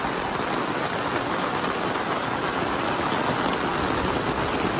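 Heavy rain pours down in a dense, unbroken roar of drops on surfaces, loud and steady from start to finish in a hillside town setting in Darjeeling.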